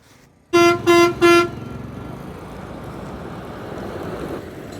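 Three loud horn blasts from a bus in quick succession, followed by a steady rumble of traffic and engine noise.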